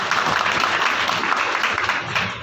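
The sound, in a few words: audience applause for the father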